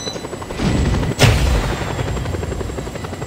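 Helicopter in the game Just Cause 2, a loud steady rotor thrum close by, with a sharp burst like gunfire or an impact about a second in, then the drone carries on.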